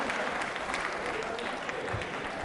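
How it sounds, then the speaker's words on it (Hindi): Applause from an audience at a quiz show for trainee state civil service officers, a full, steady burst of many hands clapping in a hall, lasting a couple of seconds. "सुमित्रा मीना के लिए तालियां जोरों से बजवाइए आप"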